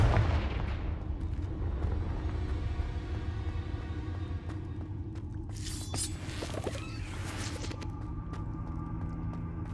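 A Confringo fire-blast spell in Hogwarts Legacy, a heavy booming burst followed by rumbling, crackling aftermath and a sharp secondary flare of noise a few seconds later, loud and close.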